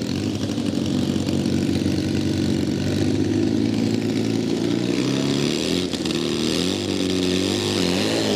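A drag racing motorcycle roars down the strip at Santa Pod, a loud, continuous high-revving engine howl held throughout with slight pitch wobbles, near and overwhelming with no voices.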